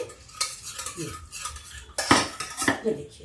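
A metal spoon clinks and scrapes inside a pot while mixed lentil dal made from three kinds of dal with spinach is stirred, a few sharp clatters standing out nearby, with a brief spoken comment over it.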